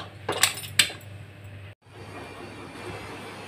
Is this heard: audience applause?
no